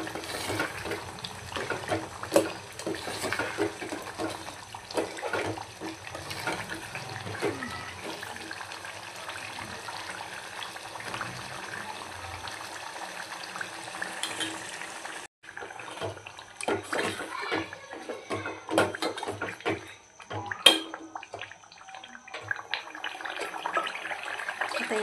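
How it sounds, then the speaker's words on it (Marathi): Steady running water pours and splashes into a pot of mutton frying in spices for a long stretch, close and moderately loud, briefly pausing before continuing with occasional faint voices. "याच्यामध्ये आपण पाणी ॲड करूया थोडंसं"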